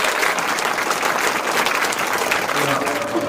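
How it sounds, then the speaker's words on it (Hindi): Schoolchildren and adults clap together in a school hall, a dense, steady wash of applause that holds at full strength throughout, with a faint voice briefly surfacing underneath near the end. "बड़े बच्चे भी बजाइए ताली।"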